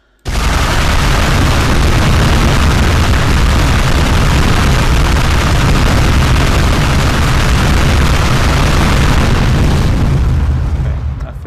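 Rocket launcher in a UDK (Unreal Development Kit) video game firing at machine-gun speed, a continuous loud roar of blended explosions and blasts lasting about eleven seconds without pause.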